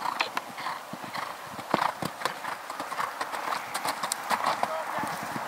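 A horse canters over a cross-country schooling course, its hoofbeats thudding in a quick, steady three-beat rhythm close by, with soft creaks and movement sounds between the strides.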